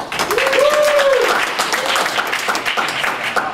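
A conference audience at CodeStock applauds, a dense wash of clapping lasting a few seconds, with a short whoop rising above it near the start.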